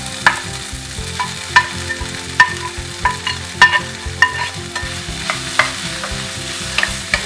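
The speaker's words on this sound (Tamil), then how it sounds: "இங்கே நம்ம மேஷ் பண்ணி வச்சிருக்கிற உருளைக்கிழங்கை இப்போ நான் அதில் சேர்த்துக்கிறேன்" Frying food sizzles steadily while a spoon scrapes and stirs mashed potato into a pan for aloo bonda, with irregular clinks and scraping strokes close by.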